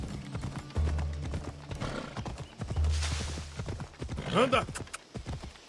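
Horse hooves clip-clopping and a whinnying neigh in the video game Assassin's Creed Odyssey, with repeated hoofbeats and a rising neigh near the end, while someone speaks over it.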